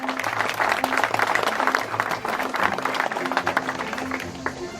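A crowd applauds the mayor at an outdoor club celebration day, with dense, steady clapping from many hands that continues for the whole stretch, and faint voices mixed in.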